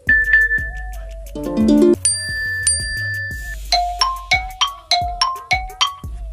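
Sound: phone notification ringtone

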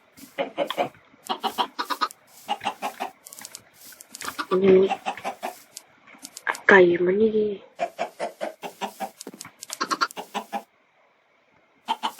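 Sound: chickens clucking in the video game Minecraft

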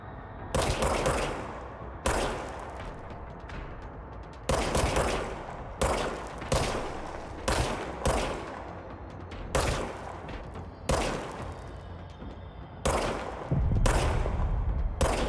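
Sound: gunfire from a gun in the video game Control

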